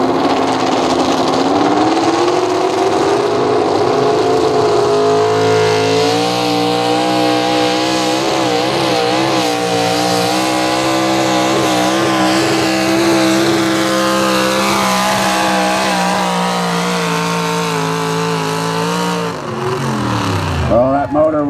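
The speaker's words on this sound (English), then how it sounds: "That motor was singing." Pro Stock 4x4 truck engine at a truck pull in Columbus, a loud continuous high-revving roar that holds strained and steady, then dips and climbs again near the end.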